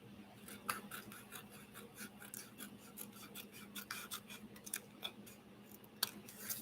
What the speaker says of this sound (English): I'm going to come in here with my scissors. And I'm going to just slide it open and open it all up